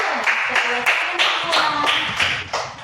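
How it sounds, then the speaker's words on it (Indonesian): Classroom applause for a student presentation group, a few pupils clapping in fairly rhythmic bursts at close range, with some background voices mixed in. "berikan tepuk tangan dulu untuk kelompok 1."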